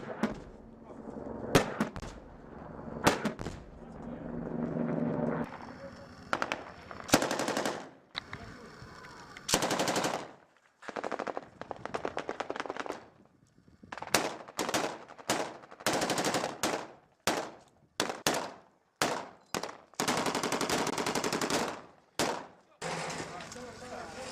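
Bursts of automatic gunfire and heavier single shots crack out during combat in Sangin, Afghanistan, coming in dense clusters with short gaps between them, loud and close, while shouting voices are heard in between.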